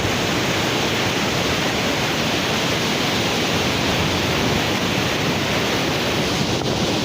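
Water of a village canal rushes loudly and continuously, a dense roaring wash that stays steady throughout, close by with no audible voices.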